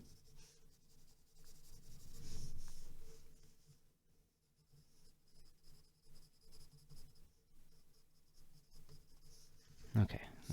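A graphite pencil shades on paper while a nose is drawn, giving soft, faint scratchy strokes close by, with a brief louder scrape near the end.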